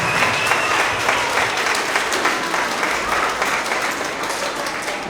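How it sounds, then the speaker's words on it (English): A school end-of-year award assembly audience applauds its 3rd graders, loud sustained clapping from many hands filling the room evenly for about five seconds. "Let's give our 3rd graders a round of applause."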